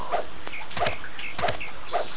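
Dogs barking in the video game CatNap, four evenly spaced, close, yappy barks in a clean game soundtrack with no talk.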